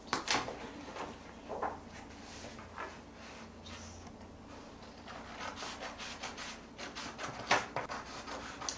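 Paper is cut along a yardstick while trimming a half inch off a page for a handmade children's book, giving soft intermittent scraping and rubbing strokes, fairly quiet and close.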